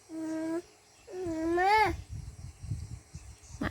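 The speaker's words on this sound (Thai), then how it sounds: "นั่นเสียงแมว" Two drawn-out, whiny meows from a nearby cat, the second rising and wavering, followed by rustling and soft shuffling noises.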